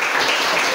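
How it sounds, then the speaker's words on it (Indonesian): A brief burst of applause from a classroom group cheering a participant named Kak Liu during a teaching session, dense even clapping throughout the short moment. "tepuk tangan untuk Kak Liu"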